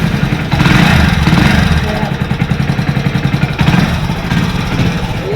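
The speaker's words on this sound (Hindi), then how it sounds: "तो यहाँ पर इंजन पे साउंड सुना है आपको" A Hero HF Deluxe BS6 motorcycle with a sound problem idles close by, its engine putting out a steady low-pitched throb with a slight rise near the start. Someone talks over it.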